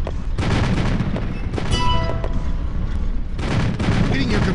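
Musket volleys in Empire Earth 2, dense crackling gunfire rolling in several waves amid battlefield din, with a brief voice partway through.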